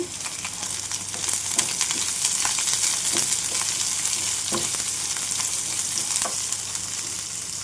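Long-sliced onion pieces fry in a pan for a curry of sprouted green gram, giving a steady, close sizzle with occasional stirring clicks and no voices.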